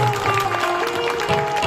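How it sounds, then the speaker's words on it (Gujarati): An audience claps for the hosts at an outdoor Bhagavat katha gathering at an ashram, a brief burst of steady clapping from a crowd with a faint tone running under it. "એકવાર યજમાનોને જોરદાર તાળીઓ બજાવી દેવા."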